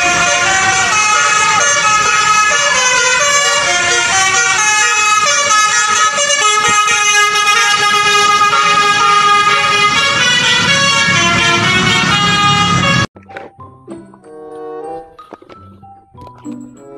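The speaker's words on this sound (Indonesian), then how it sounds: "Kali ini ada bus polisi teman-teman." A police bus blasts a loud, sustained multi-tone horn up close for about thirteen seconds, then the horn cuts off abruptly, leaving quieter road noise behind.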